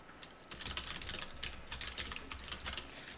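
Computer keyboard keys clatter in a quick, close run of light clicks while a shortcut is typed during a word-processor lesson, quiet and with no talk over the tapping.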